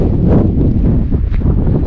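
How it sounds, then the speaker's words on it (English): Heavy desert wind blows during a wind advisory, near Chicken Corners, with a loud, steady roar battering the microphone throughout. "Very windy today. Wind advisory."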